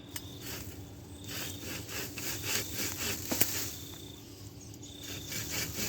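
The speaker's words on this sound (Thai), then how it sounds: "ต้องเลื่อยออกทีละกิ่งครับ" A hand saw rasps through tree branches in steady back-and-forth strokes, close and continuous, with insects chirping faintly in the background.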